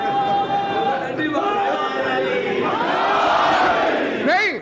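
Large crowd at a Shia majlis religious gathering in Multan shouting slogans together, loud and close, a surging mass of voices with rising calls toward the end.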